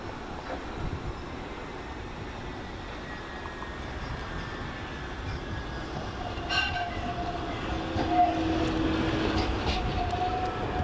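A double tram rolls into the Rochdale tram stop, a steady rail rumble building over several seconds with faint wheel squeals and clicks as it draws closer.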